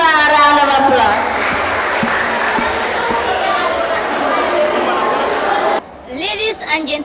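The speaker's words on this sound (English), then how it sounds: "Please give her a round of applause." Audience applause for a young contestant at a children's public speaking competition in Gambia, a loud, steady wash of clapping and crowd chatter that cuts off abruptly near the end, leaving quieter room sound.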